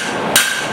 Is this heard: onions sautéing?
no